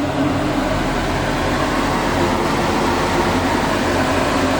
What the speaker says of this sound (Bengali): মেশিনটা কিন্তু স্টার্ট হয়ে গেছে